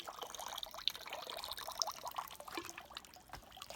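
Water draining from a manual, hand-cranked Wonder Wash washer at an off-grid mountain home: a steady soft trickle and splash with small drips, faint and continuous.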